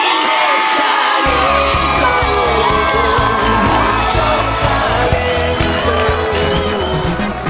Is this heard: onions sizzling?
no